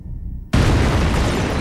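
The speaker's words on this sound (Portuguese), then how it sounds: "Ela desvia a explosão que acabaria matando 4 homens e ferindo outros 20." A bomb detonates under a heavy conference table in a 1944 assassination attempt, a sudden loud blast that stays as a sustained roaring rumble after a quieter lead-in.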